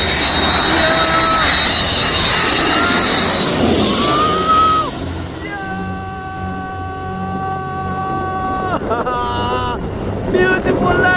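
A KLM jet airliner landing in Aruba roars steadily at a distance, its engine whine sustained over wind noise, while excited spectators shout and cheer nearby.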